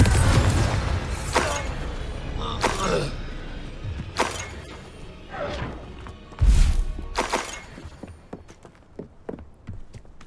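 Confringo blasting spell from Hogwarts Legacy striking with sharp cracking, shattering bursts and deep booms, several impacts in sequence amid clashing battle noise.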